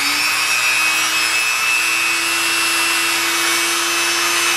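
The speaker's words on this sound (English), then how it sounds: "So just grind it down a bit until it fits." Continuous loud whine of a power grinder grinding down a metal spindle for a Behmor 1600+ coffee roaster, steady and close, with a sustained high tone throughout.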